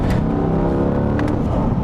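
A 2021 C8 Corvette engine revs hard and steady at high pitch above 5,000 rpm, a continuous loud roar with no voices over it.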